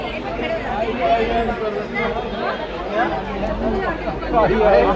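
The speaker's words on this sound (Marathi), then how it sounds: "चालू आहे गर्दी बाके बिहारीला" A dense crowd of devotees mills at Banke Bihari temple in Vrindavan, a continuous hubbub of overlapping voices and chatter, close and steady, swelling slightly toward the end.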